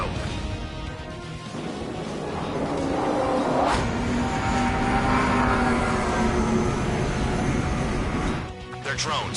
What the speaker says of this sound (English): Aircraft approaching at high speed.